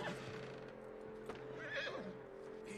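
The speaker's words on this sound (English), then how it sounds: "Let's calm the horse." A horse whinnies in Red Dead Redemption 2, a single drawn-out neigh rising over steady wind and ambient game background, fairly faint and without talk.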